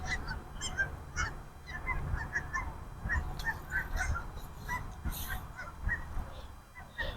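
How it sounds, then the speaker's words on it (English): Geese at Stanley Lake honk repeatedly in a scattered, overlapping chorus at moderate distance, with faint outdoor background noise underneath. "the geese really love this lake"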